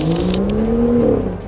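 A car accelerating hard while pulling a roll of tape, its engine note rising steadily in one loud, close surge before easing off, with no talking.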